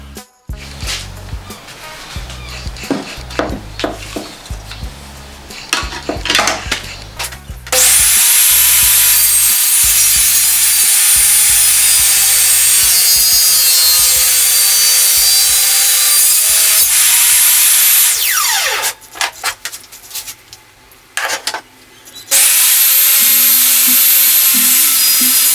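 A loud DeWalt power saw whines steadily as it cuts through wood, preceded by rough scraping and rubbing, with a brief pause before the saw resumes.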